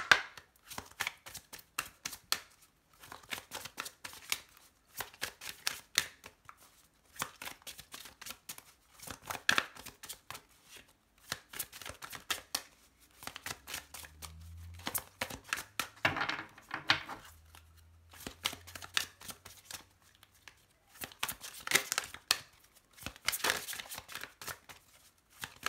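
A deck of oracle cards shuffled repeatedly for a reading, with bursts of quick riffling and flicking alternating with brief pauses, close and moderately faint; a low hum briefly intrudes midway.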